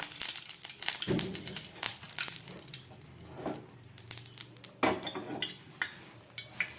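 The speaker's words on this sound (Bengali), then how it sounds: "চারা রুই মাছটাকে রান্না করার জন্য আমি কড়াই বসিয়ে দিয়েছি, তার মধ্যে দিয়ে দিচ্ছি সর্ষের তেল।" Mustard oil poured into a hot kadai for cooking rohu fish, heard as close, continuous clattering and a wet hissing trickle with metallic knocks against the pan.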